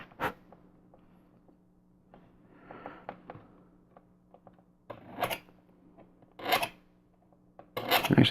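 Hand sanding of a 1/8 scale Black Moth Heavy model part, short raspy scrubbing strokes in separate bursts with quiet gaps between, close and moderately loud.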